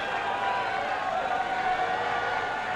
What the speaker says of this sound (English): This crowd roaring in delight.